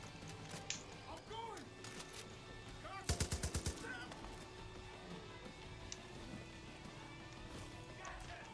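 A short burst of rapid gunfire in Far Cry 5, about five loud shots in quick succession, rings out over a busy background of music and effects.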